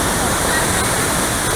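River water in Jamaica rushing steadily, a loud close broadband roar with no break across the short stretch.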